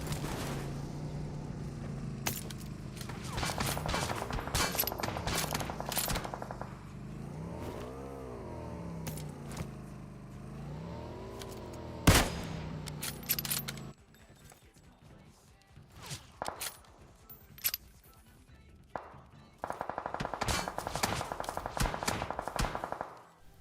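Bursts of rapid gunfire in PUBG Mobile crackle through a noisy game soundscape with engine-like rumbles, quieting briefly before another sustained volley near the end.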